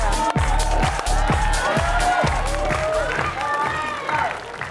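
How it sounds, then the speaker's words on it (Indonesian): A studio audience on a TV dating show applauds and cheers loudly while a musical sting with rising tones plays over the crowd noise. "Ladies, berikan tepuk tangan untuk single man yang sesungguhnya"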